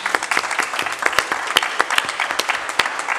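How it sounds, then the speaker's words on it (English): Scattered clapping from a small group at a board meeting after a unanimous vote, with distinct individual claps that are close and fairly loud, in an uneven rhythm. "I want to applaud that."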